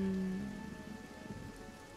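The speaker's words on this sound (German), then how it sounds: "es regnet doch" Rain falling in the fantasy role-playing game Divinity: Original Sin, a soft continuous patter on surfaces beneath a fading tonal game sound, gentle and even throughout.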